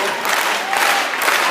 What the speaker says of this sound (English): Let's get a little clap going.